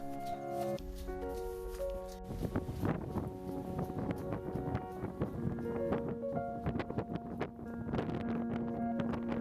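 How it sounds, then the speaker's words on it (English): Strong wind buffets the microphone in steady gusts on a hilltop at the Po Shanu Cham towers near Mui Ne, Vietnam, with a low tonal hum running underneath and no talking. "It was very windy up here."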